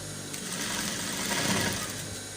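Sewing machine running steadily while stitching a waistcoat jacket, a continuous close mechanical whir with no pauses.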